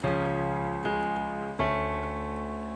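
Sustained piano chords from a song ring out, shifting to a new chord twice, each change struck clearly and left to decay.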